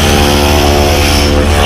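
A propeller skydiving plane's engine drones steadily and loudly up close, a thick continuous rumble with strong low harmonic tones and no talk over it.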